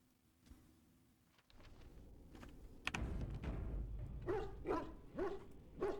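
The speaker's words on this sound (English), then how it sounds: "Woof. Duncan the dog." Duncan's dog in Dragon Age: Origins, a war hound on fire, gives a quick run of close barks and yips, rising from a quieter rumble into several sharp bursts near the end.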